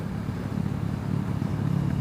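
A learner motorcycle fitted with an aftermarket exhaust idles and burbles, a low steady throbbing engine note heard up close for about two seconds, with no talking.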